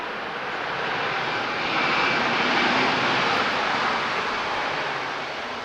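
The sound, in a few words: Eurowings airliner landing with engine reverse thrust at Lisbon Airport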